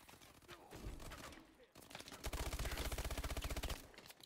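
Rapid automatic gunfire in the Call of Duty: Advanced Warfare video game, a short burst followed by a long steady stream of quick, evenly spaced shots, fairly faint in the mix.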